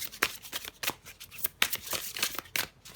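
Oracle cards riffle and slap close by in quick, uneven bursts of shuffling, with crisp flicks and soft thumps as cards are handled and drawn.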